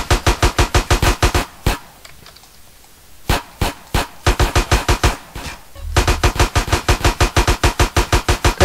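Automatic gunfire in the video game GTA San Andreas, loud rapid bursts of evenly spaced shots with a brief pause of scattered single shots before the fast rattling resumes.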